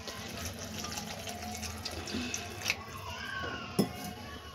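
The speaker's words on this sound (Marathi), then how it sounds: "ह्यामध्ये फक्त 1 ग्लास पाणी टाकायचे" A glass of water splashes and trickles into a pan of vegetables, with faint clinks of utensils, a soft, steady pour heard close by.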